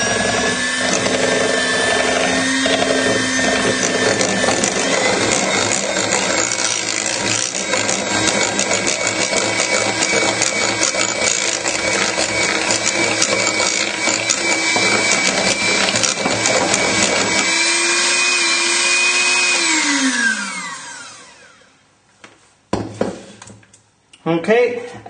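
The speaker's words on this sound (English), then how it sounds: "we need to whisk again, and do this again nice and slowly so that you incorporate the food colouring in slowly" An electric whisk mixing food colouring into pink cupcake frosting whirs loudly and continuously at close range, then winds down and stops near the end, followed by a few light knocks.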